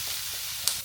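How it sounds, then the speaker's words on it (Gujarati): Paneer and capsicum frying in butter and oil, a continuous soft sizzle and hiss with a faint crackle, close and steady, no talk. "જેમ આપણે ચીલી પનીર બનાવીએ તેવી રીતે મસ્ત ફ્રાય કરી નાખવાનું છે બટર નાખ્યું એટલે તેલમાં"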